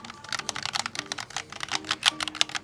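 Keys on a Razer Tartarus Pro gaming keypad are pressed in a rapid, uneven flurry of crisp clicks and clacks, close and fairly quiet, with no voices.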